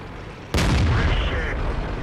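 A sudden loud boom from a tank cannon in World of Tanks, the shot ricocheting, cuts through a quiet background, its rumble lingering and tailing off with a faint metallic ring.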